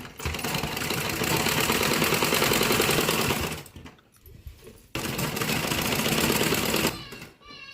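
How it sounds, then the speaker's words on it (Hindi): A sewing machine stitching a blouse runs in a fast, loud, even rattle, stops briefly for a few seconds with faint handling noise, then starts up again and runs before slowing. "यहीं से घुमाए के इसे डबल सिलाई लगा देते।"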